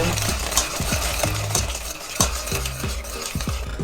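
Locust beans (iru) stirred into a pot, a spoon scraping and knocking against the metal in a quick repeated rhythm over a constant sizzle, close and clear, no speech.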